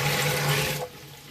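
Water pouring steadily into a homebrew beer fermenter, a close, continuous splashing rush that cuts off sharply near the end, leaving only quiet room tone.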